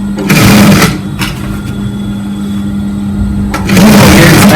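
A sewing machine stitching a sleeve onto an armhole, running in two loud, close bursts of rapid whirring stitches separated by a quieter humming pause.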